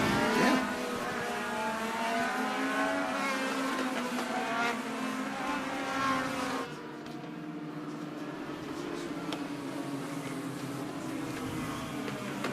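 A legend race car roars past on the Citrus County Speedway, its engine loud and sustained, then dropping in pitch as it moves away, with no talking.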